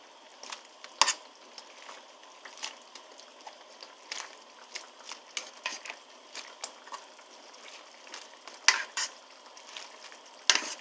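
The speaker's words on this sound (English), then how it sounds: "Make sure you move your pasta around so it doesn't get stuck." Spaghetti being stirred and pulled apart in a pot of tomato sauce with garlic, basil and oregano, giving a steady soft sizzle with scattered utensil scrapes and clinks against the pot, close and alone.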